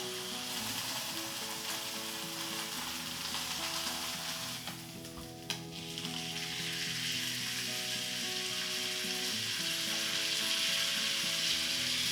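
Roast beef searing in a hot cast iron skillet, a loud continuous sizzle and spatter close by that holds steady throughout, with a brief dip and a single clink partway through.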